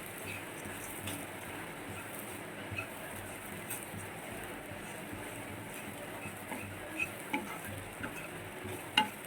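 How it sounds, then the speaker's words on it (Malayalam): Fried bitter gourd thoran being stirred in a pan, a quiet soft sizzle with light scraping and a few sharp ticks of the spatula against the pan. "നന്നായിട്ടൊന്ന് മിക്സ് ചെയ്യാം."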